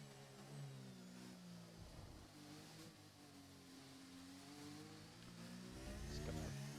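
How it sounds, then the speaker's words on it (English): An onboard race car engine in a racing game, heard at full throttle: a steady, strained mid-pitched drone that rises in pitch and swells louder toward the end, with a brief gearshift-like dip and no talking. "He's gonna get the throttle down, fourth gear, full throttle into turn one."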